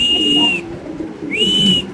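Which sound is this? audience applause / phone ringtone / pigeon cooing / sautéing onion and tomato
pigeon cooing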